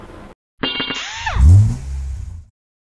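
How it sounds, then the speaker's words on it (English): A 2007 Toyota Corolla engine running with the AC on rises and falls with a whining, sweeping tone, close by under the hood and fairly loud. "I do have the car still running with the AC on."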